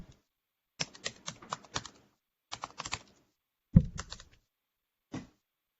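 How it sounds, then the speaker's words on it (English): Bursts of quick key clicks on a laptop keyboard, typed in short clusters with brief pauses between, close and crisp in an otherwise quiet room. "Can you hear me typing? We can hear the typing."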